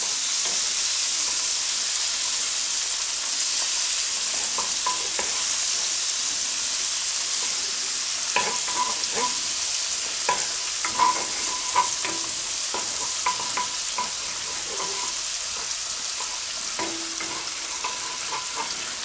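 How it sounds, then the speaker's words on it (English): Tilapia fillets sautéing in a preheated pan give a steady, loud sizzle and hiss with scattered pops and crackles, joined partway through by brief utensil scrapes, with no voices. "And while the fish is sauteing, you can hear it sauteing in the other pan"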